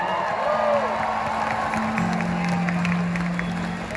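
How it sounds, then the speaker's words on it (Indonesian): A large crowd at an arena rock concert in Istora Senayan applauds and cheers with whoops, steady and loud. A sustained tone runs through the noise, with a voice briefly audible underneath. "Tepuk tangan untuk Jubian Festival."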